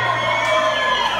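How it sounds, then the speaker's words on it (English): An audience at a concert cheers and whoops, a loud, close crowd roar with shouts lasting just over a second. "Some people are cheering up there"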